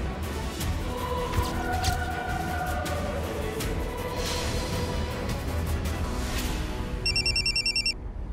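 A phone ringing late at night, heard as a short electronic ringtone burst near the end, rising over a steady background hum.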